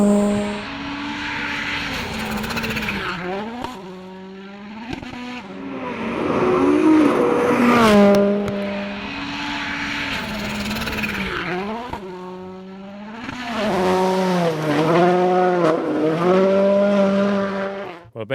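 A Volkswagen Polo rally car on a Rally Finland test stage, its loud engine revving and shifting up and down as it approaches and passes close by, with rising and falling gear changes over about eighteen seconds.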